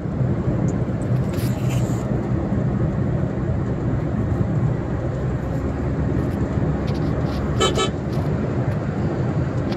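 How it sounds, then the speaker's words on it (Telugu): Inside a second-generation Honda Amaze S variant cruising in fifth gear at around 80 km/h, a steady rushing wind and road roar fills the cabin, with a faint horn toot in the distance. "ఎయిర్ నాయిస్ అయితే బాగా వస్తుంది"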